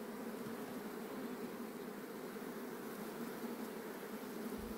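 Honey bees swarm-buzz steadily at an open beehive during a spring inspection, a dense continuous hum filling the whole stretch at fairly low volume with no talking.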